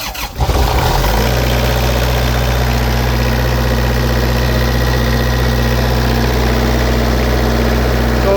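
A John Deere Powertech diesel engine cranks briefly, then catches and settles into a loud, steady idle with a constant low rumble.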